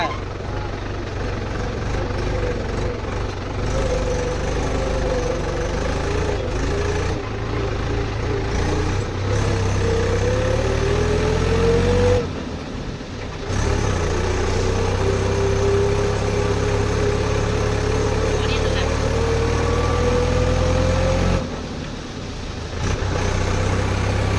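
A loaded tractor engine runs on a village track, a loud steady diesel drone with a rising and falling pitch as it works, continuous and close, with brief dips, as people talk over it.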